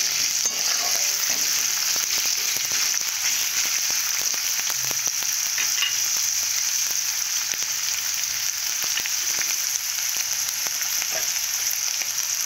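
Greens and onions fry in hot oil with a steady, dense sizzle throughout, broken by scattered crackles and pops, with no talking.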